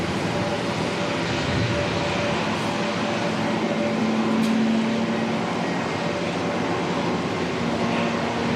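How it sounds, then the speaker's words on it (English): A Boeing 777 departing Auckland Airport for Sydney, a steady broadband jet roar at moderate distance, sustained and unbroken with a faint low engine hum, no talk. "we should see the 777 depart off to Sydney"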